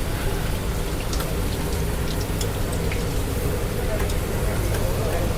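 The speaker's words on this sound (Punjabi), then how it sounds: "ਮੀਂਹ ਲੱਗ ਗਿਆ ਪੂਰੇ ਜ਼ੋਰਾਂ ਦਾ" Heavy rain pouring steadily in Ropar, a dense continuous hiss of drops on surfaces with faint traffic beneath.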